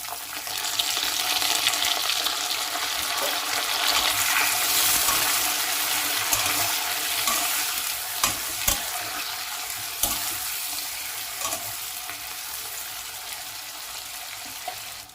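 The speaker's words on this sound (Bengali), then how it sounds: "এই সময় দিয়ে দেব আমি কেটে রাখা পেঁয়াজ কুচি" Chopped onions hiss and sizzle loudly in hot tempered oil on high flame, a continuous close frying sound with a few sharp stirring clicks and no talk.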